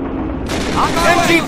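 MG-42 machine gun fire in the Men of War World War II game, a short rattling burst that cuts in sharply amid shouting soldiers and battlefield noise.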